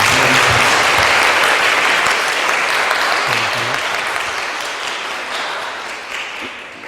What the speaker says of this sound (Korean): 우리 환영 큰 감사의 박수로 응답하겠습니다